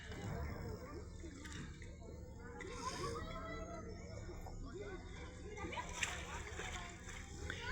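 Young children of about six and seven swim and splash in a village pond on a summer day, faint scattered sloshes and splatters under a steady background hum, with voices faintly audible.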